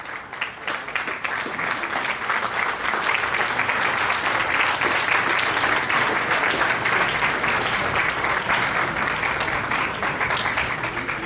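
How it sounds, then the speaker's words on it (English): Sustained, loud applause from an audience fills a book launch event, a dense wash of clapping hands that holds steady throughout and tapers slightly at the end. "Let's give him a big round of applause and standing ovation, Dr. Hakam Buller."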